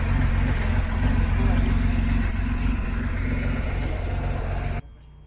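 A Chevrolet Silverado single cab idles with a steady, close engine drone that holds evenly, then cuts off abruptly near the end.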